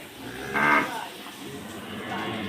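A single moo-like call rises briefly from a cow nearby over a steady hum in a dairy farm's milking section, then fades back into low background noise.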